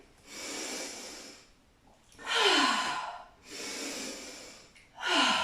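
Deep, forceful breathing during dynamic meditation, heard as long rushing exhales and sharp inhales in an uneven rhythm, loud and close with no talking.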